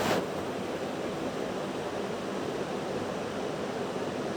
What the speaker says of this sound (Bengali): সামান্য একটু জল দিয়ে দিচ্ছি আমি মশলাটা কষানোর জন্য।